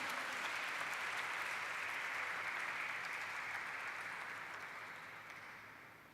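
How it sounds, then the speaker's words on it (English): Audience applause at a company listing ceremony, a dense, even wash of clapping from a large room that holds steady and then gradually fades out toward the end. "Ladies and gentlemen, a round of applause, please."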